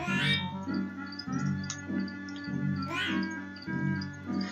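A cartoon cat meows repeatedly in Pac-Man 2, with several bright, whiny calls spaced roughly a second apart over a steady tonal game-music background.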